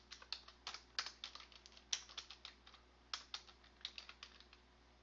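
Typing on a computer keyboard, quick clusters of close, crisp key clicks with brief pauses between bursts, heard alone with no talking.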